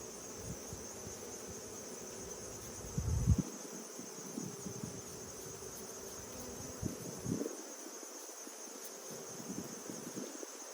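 Honey bees buzz around a hive as they are gently brushed in during a late-season honey harvest, a faint steady high drone with a few soft nearer rustles and bumps, no talk.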